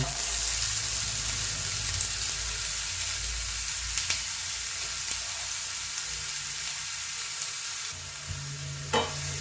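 Two chopped onions sautéing in a hot pan, a steady close sizzle and frying hiss running throughout with occasional stirring scrapes, no talking.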